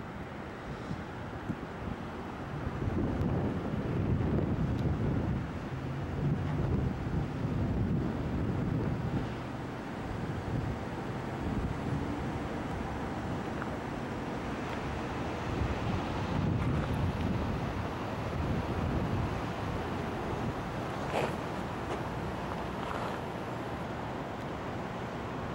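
Wind buffets a microphone on a hotel rooftop overlooking San Francisco Bay and the Golden Gate on a cold, foggy day, a loud, steady roar with stronger gusts rumbling through, no voices.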